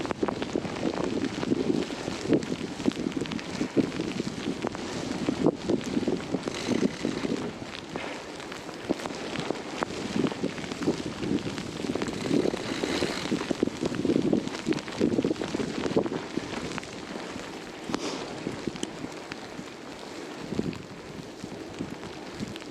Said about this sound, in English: So even though it's super windy,